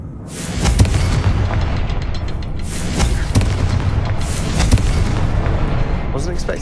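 Repeated booming blasts of the Confringo fire spell in Hogwarts Legacy, several heavy explosions spaced about a second apart amid game noise, with a voice speaking over them.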